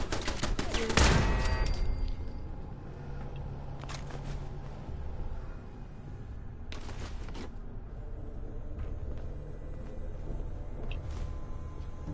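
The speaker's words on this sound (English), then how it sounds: "There was another turret shooting from the back somewhere." Turret gunfire in Fallout 4: a loud burst of rapid shots at the start, then scattered bursts and single cracks at a middle distance over a low rumble, with no talk.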